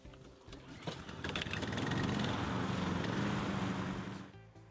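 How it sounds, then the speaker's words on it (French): Two motorized lawn mowers cutting grass drone and whir steadily, building to a dense mechanical buzz before dropping off at the end. "Les opérateurs ont commencé à tondre."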